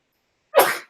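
A single short, sharp sneeze bursts out after a moment of silence, close and fairly loud, then trails off quickly.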